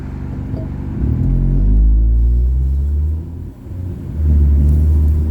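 Cars roll past in traffic close by, loud rumbling engine and tyre noise surging and fading in two or three successive pass-bys with no talking.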